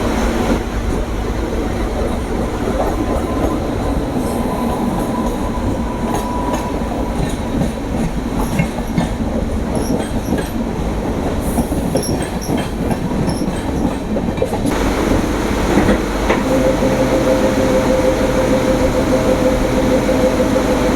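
A MEMU electric passenger train runs on the line into Podanur near Coimbatore, its steady rumble and clickety-clack of wheels over rail joints continuous and close.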